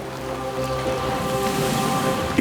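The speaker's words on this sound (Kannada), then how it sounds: "ಮಳೆ ಬಂತು." Rain falls in a Motu Patlu cartoon, a steady dense patter and wash of water heard close and fairly loud under a faint musical tone, with no speech.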